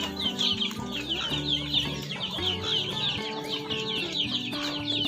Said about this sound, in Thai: ก็จะมีไก่ที่เราเลี้ยงเพาะไว้นะครับ